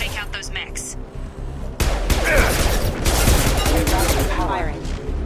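Gunfire from the video game Mass Effect 2 during a fight against mechs, a sudden dense burst of rapid shots after a quieter start, continuing loud and rattling with game sound effects and voices layered over it.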